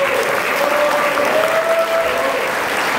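An audience gives a big round of applause for a composer at a Korean music event, dense continuous clapping filling the room at a steady loud level, with a faint tone running underneath.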